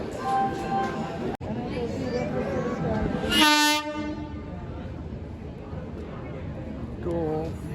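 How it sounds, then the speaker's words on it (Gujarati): A local passenger train, Veraval–Bhavnagar service 59559, rumbles steadily into Junagadh railway station as a loud horn blares once, with people talking throughout over the rolling noise. "ટ્રેન પહોંચી ગઈ છે જૂનાગઢના રેલવે સ્ટેશન ઉપર"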